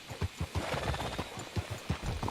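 Horse hooves clip-clop in a steady rhythmic walk in the video game Red Dead Redemption 2, moderately close and fairly faint, with no talk.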